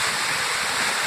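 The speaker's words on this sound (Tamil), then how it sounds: "இது அருமையான நீர்வீழ்ச்சி" Hogenakkal waterfall roaring with reduced flow, a dense, steady rush of falling water heard close and loud with no other sounds.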